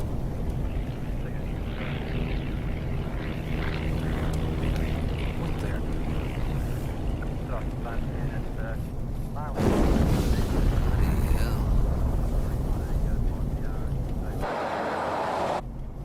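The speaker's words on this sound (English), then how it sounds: "confirming a plane crash and a large fire on Diggers Reef Road" A light aircraft crashes and burns on Diggers Reef Road, with a steady engine drone that gives way to a sudden, loud, roaring impact and rumble, then cuts off abruptly.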